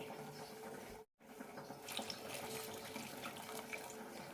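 Half a cup of water pours into a pan with salt, turmeric and pepper powder, a steady, close splashing stream that briefly cuts out for a moment and then runs on, with no speech.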